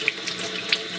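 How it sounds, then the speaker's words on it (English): A sink tap runs steadily as a charcoal electrode is rinsed beneath it, a close, constant splashing stream with a couple of brief bright clinks from handling. "if I wash that under the sink for a minute, will that improve it?"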